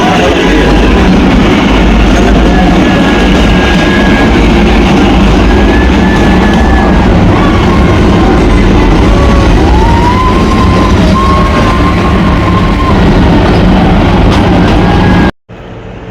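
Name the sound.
Kalka-Shimla toy train arriving at Barog station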